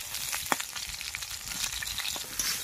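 Close, steady sizzling of fish frying in a pan, with spattering pops and one sharper crackle early on, continuous and without speech.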